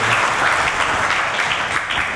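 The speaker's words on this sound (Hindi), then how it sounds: "तो उनके सम्मान में ताली बजा देता है" An audience claps steadily at a sermon gathering, a dense, continuous wash of applause throughout, loud and close with no voices over it.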